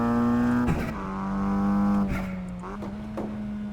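Mazda MX-5 race car on Michelin Pilot Sport street tires at Lime Rock, its engine droning steadily under boost with a strong humming tone that shifts pitch through gear changes, heard close from inside the car.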